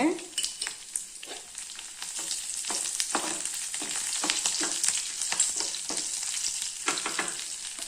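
Garlic, chili and mustard seeds fry in hot oil for a curry leaf chutney, with a busy crackling sizzle and repeated sharp popping spatters throughout, close and fairly loud.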